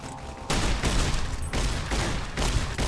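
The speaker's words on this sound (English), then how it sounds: "Use the riot shotgun at this point." Riot shotgun blasts in Fallout New Vegas, four heavy booming shots spaced about a second apart, each with a rumbling decay, loud and close with no talk.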